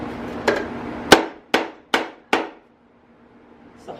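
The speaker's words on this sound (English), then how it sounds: "It's a hard fucking mallet." Hard mallet blows on a blown-up BMW N52 engine during teardown: five sharp, loud strikes in an uneven rhythm, each ringing briefly, then a near-silent pause.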